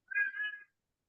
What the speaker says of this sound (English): Sorry if you hear my cat in the background. He's decided to get noisy all of a sudden.